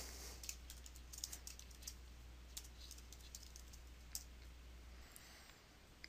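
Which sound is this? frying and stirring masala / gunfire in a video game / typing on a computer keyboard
typing on a computer keyboard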